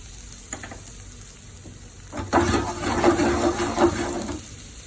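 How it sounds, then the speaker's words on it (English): Finely diced garlic and shallots land in a hot pan of olive oil, and a soft sizzle swells up midway and hisses steadily nearby before fading. "we're going to add some olive oil, a few bits of finely diced garlic, finely diced shallots"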